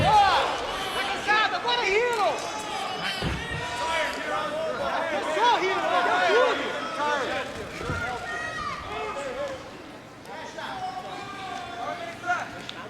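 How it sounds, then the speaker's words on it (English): Crowd noise from spectators at a Brazilian jiu-jitsu match between Ryron Gracie and Andre Galvão, a continuous murmur of chatter and cheering that stays fairly steady throughout, with a dip near the end. "You know, you hear the crowd, both for Hidon and Andre."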